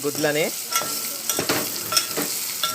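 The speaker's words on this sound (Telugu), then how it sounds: "గుడ్లను మిక్సింగ్ చేసేసుకుంటున్నా నేను" Beaten eggs mixed in a bowl, rapid scraping and clinking strokes with a wet, sizzling texture, close and fairly loud, opening with a brief tonal squeak.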